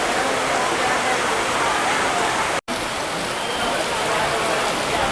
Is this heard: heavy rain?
yes